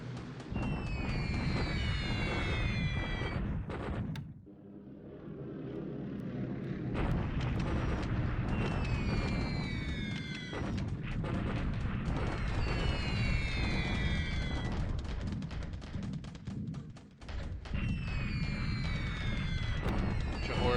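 Airfield strike at Beirut in a 1942-era war video game: a dense, continuous rumble of explosions with repeated descending whistles of falling bombs, loud throughout with a brief lull partway.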